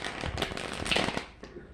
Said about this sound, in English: I'm going to give these one more good shuffle because that did not do what I wanted it to do.